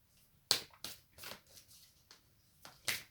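Nature's Whispers oracle cards are shuffled in faint, close, soft riffles and taps. A few sharper flicks stand out against a quiet background.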